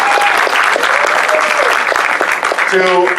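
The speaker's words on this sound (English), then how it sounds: "A round of applause for them" Loud, dense applause from a conference audience at a closing ceremony, steady throughout with a few whoops and voices mixed in near the end.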